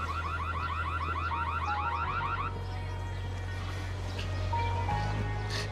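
A loud electronic fire alarm, in a hospital, wails in rapid repeating chirps, then shifts to steadier tones over a constant low drone, with no voices.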